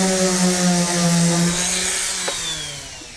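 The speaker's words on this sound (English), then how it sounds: "you get out your power sander, let's try that" Power sander working on a drywall compound edge, a steady close motor whine with harmonic hum that winds down and fades toward the end.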